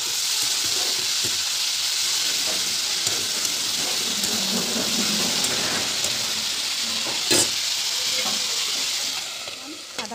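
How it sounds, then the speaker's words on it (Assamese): Steady sizzling of ground spices, cumin, coriander, chili powder and ginger frying in a pan, with a few clinks and scrapes of stirring over the continuous hiss. "দি দিছোঁ মছলা গুড়ি, অকণমান জিৰা ধনিয়া, অকণমান জলকীয়া গুড়ি। আটাইখিনি ভালদৰে লৰাই সিজিবলৈ দিম।"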